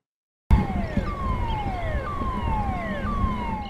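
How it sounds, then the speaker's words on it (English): Warning sirens blare at the former Moss Landing power plant during a battery fire, starting abruptly and then rising and falling in repeated loud wails over a steady rumble, with no voices. "The sirens at the former Moss Landing power plant started blaring early Tuesday morning"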